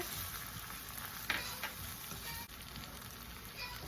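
Soy sauce and white vinegar hit a hot pan with green onions for Singaporean fried rice, giving a steady, faint sizzle and frying hiss with a couple of soft splashes and clicks.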